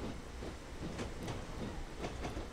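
A steam train in Train Simulator 2014 rolls along with a steady broadband rumble and hiss, with faint rhythmic clickety-clack of wheels over rail joints, continuous and fairly quiet.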